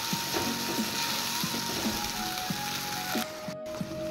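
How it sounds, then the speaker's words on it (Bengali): A ground paste of mustard, cumin, onion and ginger frying in a pan, a steady sizzle under regular clicking scrapes of a spatula with a faint tonal hum and a brief dropout near the end. "এবার মশলা ভালো করে কষিয়ে নেব।"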